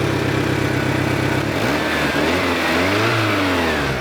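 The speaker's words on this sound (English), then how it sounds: "Listen to that 4-cylinder engine." A racing Toyota Camry's old 4-cylinder engine with a timing belt and an exhaust leak idles loudly close up, then revs upward in a couple of swelling pulls before settling, no voices.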